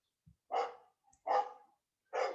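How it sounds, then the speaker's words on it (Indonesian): A neighbour's dog barks three times at a steady spacing, the loud barks heard a little distant with quiet gaps between them and no talk over them. "Ini anjing tetangga menggonggong-gonggong."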